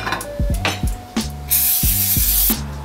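Cooking spray hisses into a small 6-inch personal frying pan, a sustained close spray burst lasting about a second, set among a few short knocks and clatters.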